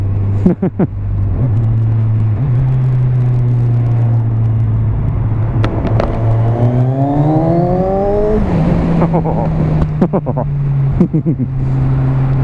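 A 2017 Kawasaki Z1000 motorcycle engine drones loudly and steadily on the road, rising through the revs in smooth pulls, dropping back on upshifts and settling again, with wind rush underneath.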